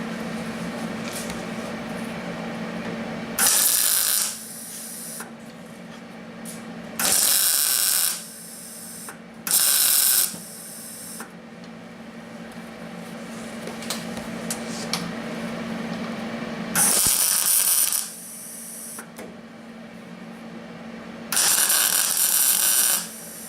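Welding on the firewall of a 1977 Camaro Z28: five short, harsh crackling bursts of a few seconds each, separated by pauses filled with a low steady hum.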